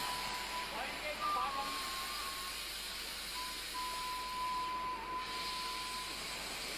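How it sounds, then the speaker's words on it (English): Steam locomotives hiss steadily inside a locomotive shed at Rana Pratapnagar, Udaipur, India. The broad, even hiss continues throughout, with a thin, faint whistle-like tone drifting above it. "there was plenty of steam activity, as you can see from these pictures"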